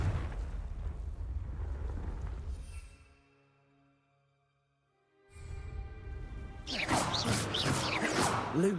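A Confringo fire spell blast in Hogwarts Legacy: a loud crashing, rumbling burst, a near-silent gap with faint tonal ringing, then a second roaring, fiery eruption that swells and stays loud.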